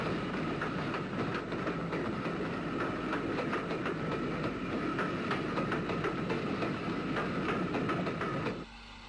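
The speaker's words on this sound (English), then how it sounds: "one of the S-Class locomotives bought by the UTA from CIE, and still retaining the GNR blue livery, heads for Belfast." A GNR-blue S-Class steam locomotive heading a train toward Belfast at Portadown Station, rolling past with a steady rumble and rhythmic clickety-clack of wheels on rail joints, dense and continuous before cutting off abruptly near the end.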